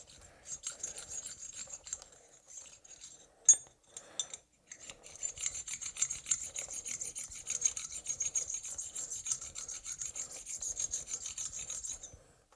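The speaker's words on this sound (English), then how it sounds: "it will actually get rid of the burr. This is very sharp reamer" Sharp reamer rasping against metal while removing a burr from a cylinder part for a rotary vane air compressor, heard as close, repeated scraping strokes with a brief pause and a small clink partway through.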